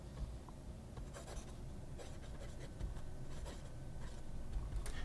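A fountain pen nib scratches across Scribo paper in quiet, soft strokes with faint rhythmic scritching and a little feedback.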